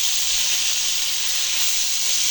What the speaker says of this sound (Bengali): ভাজা বেগুনগুলো আমি 1 মিনিট একটু ভেজে নেবো, মশলার সাথে একটু 1 মিনিট ভালো করে ভেজে দেবো